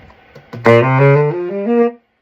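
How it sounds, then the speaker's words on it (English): A single sustained tenor saxophone note, rich and breathy, played alone up close and held for more than a second before stopping abruptly. "that's the sound of a tenor sax"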